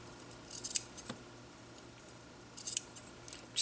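Sewing scissors snip through cloth to cut loops, a few crisp, close metallic cuts spaced out with quiet gaps between them.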